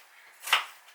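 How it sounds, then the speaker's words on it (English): A single soft knife chop through onion onto a board, close and brief, in a quiet home kitchen. "just chopping onions"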